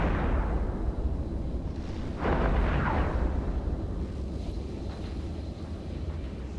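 A ship exploding in the space combat game EVE Echoes: a loud, sustained rumbling blast that swells around the middle over a constant low roar of engine and weapon noise.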